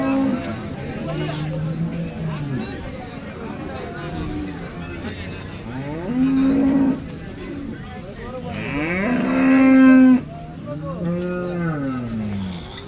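Cows mooing at the Baramati cattle market, several long, loud bellowing calls rising and falling across the span, heard over steady crowd chatter and someone talking nearby.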